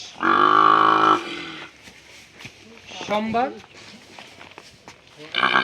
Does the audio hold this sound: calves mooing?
yes